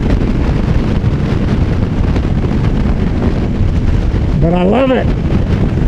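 Loud, constant wind buffeting a microphone on a motorcycle ridden at about 76 miles an hour, with a voice speaking briefly over the roar near the end.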